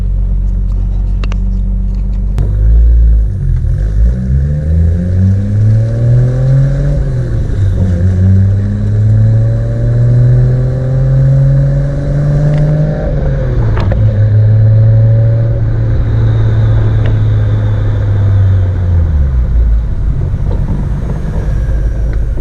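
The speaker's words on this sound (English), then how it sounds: "On my way there, I'll show you guys a little bit more of the car, of me just driving up there" A Nissan Skyline R32 GT-R engine hums steadily and rises in pitch as it revs through several gears while driving, loud and close, with a deep rumble and no talking.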